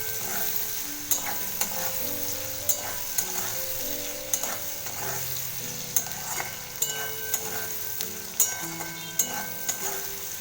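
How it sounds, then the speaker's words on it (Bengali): Potatoes cut small fry and sizzle in a pan with turmeric and salt, with thor (banana stem) and prawns in the recipe, while a spatula stirs through them in repeated scraping strokes over a steady hiss. There is no talking. "আবার একটু ভালো করে নাড়াচাড়া করে নেব।"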